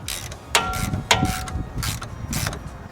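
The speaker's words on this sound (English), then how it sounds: "So we just tightened up the second motor mount on the side with the triple square." A triple square ratchet tightens a motor mount bolt on an Audi S4, with repeated rapid clicking bursts in an uneven rhythm, close up, in a garage with no talk.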